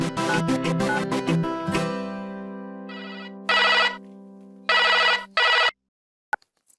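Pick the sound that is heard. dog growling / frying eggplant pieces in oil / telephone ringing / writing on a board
telephone ringing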